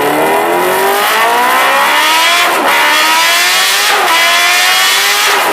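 A Kawasaki H2R, a 2019 production motorcycle with 305 horsepower, revs hard and loud, its engine note climbing in long sweeps that break off twice before rising again.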